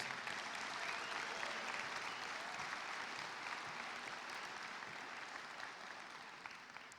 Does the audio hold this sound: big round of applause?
yes